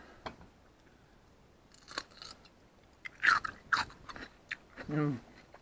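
A few crisp crunching bites into a pickle, fairly close, with brief chewing sounds between them and a short burst of voice near the end.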